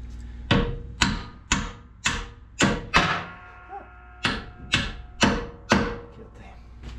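Repeated hammer blows driving a bolt out of a Range Rover L322 front air suspension, nine to ten sharp metallic strikes at a steady, slightly uneven rhythm, close and loud, each ringing briefly.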